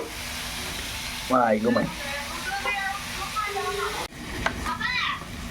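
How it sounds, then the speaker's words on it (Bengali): Spices with ginger and garlic fry in a pan with a steady sizzle and hiss, while voices talk over it and children can be heard nearby. "আর এখানে ভাজা হইতেছে মশলা, আদা টাদা জ্বালাইছি, আদা রসুন সব"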